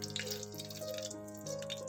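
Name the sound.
mustard seeds crackling in hot oil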